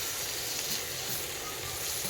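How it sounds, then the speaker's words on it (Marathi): Spices and bitter gourd are stirred in a pan over a wood-fired stove, giving a steady close sizzle and hiss that runs without pause for the whole short stretch. "हे पूर्ण साहित्य आपल्याला इथल्या इथं हलवून घ्यायचं आहे"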